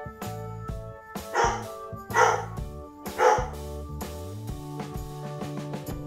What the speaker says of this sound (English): Only can't do this with the dogs barking.